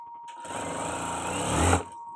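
Sewing machine stitching thread piping along the edge of an 8-meter saree, a close, steady whirring run of rapid needle strokes lasting under two seconds before stopping.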